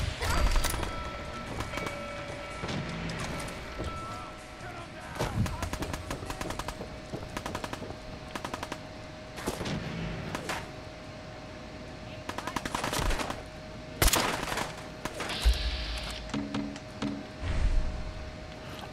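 Gunfire in Fallout 4 comes in repeated bursts of sharp shots and rattling automatic fire, loud and close, scattered across a busy combat scene with some background voices.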